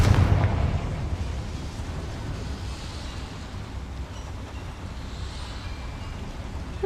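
A Confringo spell explosion in the video game Hogwarts Legacy bursts with a loud low boom at the very start, then fades into a rumbling tail and a quiet background.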